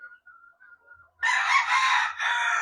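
A claret gamecock rooster crows loudly and close by, one full hoarse crow following a few faint chirps, with no voices.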